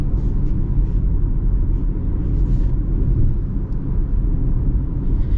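A 2026 Honda HR-V AWD heard from inside while driving, giving a steady low road rumble and engine drone with no talking.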